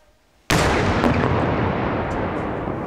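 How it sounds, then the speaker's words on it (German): A 3 kg explosive charge detonated during a power plant demolition to scare birds away: after a brief quiet lead-in, one sudden loud blast that rolls into a long, dense rumble and echo that carries on to the end. "Ein Knall, um Vögel zu verscheuchen."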